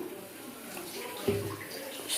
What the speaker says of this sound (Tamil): தண்ணி சேர்த்துட்டு நல்லா மிக்ஸ் பண்ணிக்கலாம்.